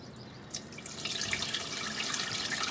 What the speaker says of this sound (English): You got a little leak right there.